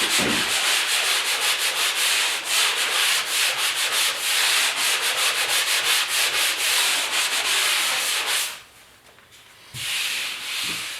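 Abrasive sanding of a drywall repair patch on a garage wall, knocking down coarse scratches: steady, close, rhythmic back-and-forth scraping strokes that run continuously, then pause briefly near the end before resuming more softly.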